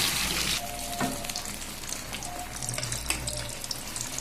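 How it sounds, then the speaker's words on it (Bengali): An egg fries in a pan before going into a vegetable curry, giving a steady broadband sizzle with a louder burst at the start and a few sharper crackles; no one speaks. "দেখুন আমি ডিমটাকে ভাজতেছি, ভেজে আমি তরকারিতে দিয়ে দেবো।"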